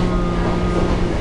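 A standard Japanese passenger train rumbles steadily with a low, continuous rolling hum, heard from close by for a brief moment.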